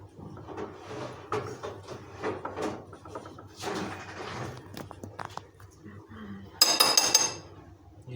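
A lid is hunted for and set on a bowl in a home kitchen while making çiğ köfte, with scattered clinks and clatters of dishes and utensils, ending in a brighter ringing scrape, as people talk quietly nearby.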